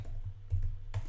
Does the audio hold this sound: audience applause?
no